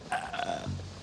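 A long, gurgling burp drawn out over about a second, rising and shifting in pitch as if trying to carry the tune of a national anthem, loud and close with nothing else heard.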